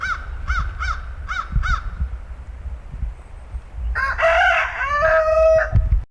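Welsummer cockerels in a backyard flock crowing, one run of several short rhythmic calls followed by a longer, louder crow close by, over low background noise.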